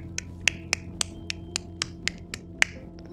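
A series of about ten sharp, evenly spaced claps or snaps, crisp and close, with no voices.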